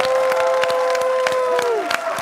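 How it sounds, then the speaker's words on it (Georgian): Applause and cheering from a studio audience as X Factor jury members visit Bakhuta on a Georgian show, a dense continuous clatter of claps with a steady sung or sustained tone running beneath it. "აპლოდისმენტები"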